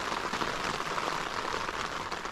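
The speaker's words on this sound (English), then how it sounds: "A bit of heavy rain." Heavy rain drums on a tent during a Lake District wild camp, a dense, continuous patter close overhead, steady and fairly soft in level with no voices.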